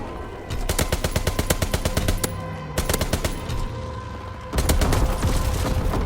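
Loud, close bursts of automatic assault rifle fire from the Wimmer's Perg in Call of Duty WW2, with rapid evenly spaced shots in several long strings and brief pauses between.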